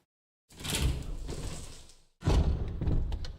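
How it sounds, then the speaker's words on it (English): A door in the Resident Evil Remake video game opens with two heavy, rumbling slides, each a loud close-up burst of grinding noise separated by a short pause. "Go ahead and head out this door."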